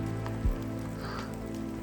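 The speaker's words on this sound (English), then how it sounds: "it started raining" Rain falls steadily on the jungle along the trail near Tengboche on the way to Everest Base Camp, a constant close patter and hiss with a low rumble beneath and one brief thump early on.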